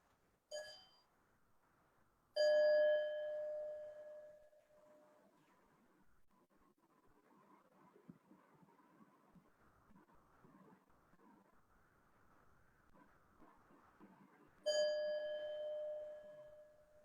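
A bell chimes three times, clear ringing tones with long decays, separated by a quiet stretch with faint background noise.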